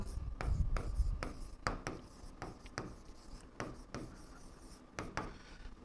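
Pen on paper as a teacher writes out a Class 7 maths ratio of angles, a quiet series of scratchy taps and short strokes in an irregular rhythm, close and faint.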